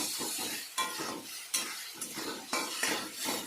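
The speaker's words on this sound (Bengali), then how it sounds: "এই জন্য সুন্দরভাবে ফ্রাই করে নিচ্ছি" Spices with turmeric fry in a pan for a bata fish posto curry, a metal utensil stirring and scraping in a regular rhythm with clinks over a soft, continuous sizzle, close by.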